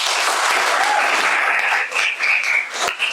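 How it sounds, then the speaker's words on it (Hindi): Students at a success celebration event break into loud, close applause, a thick wash of clapping that swells and thins slightly toward the end with a few brief voices rising over it. "तो एक बार प्लीज उसके लिए तालियां।"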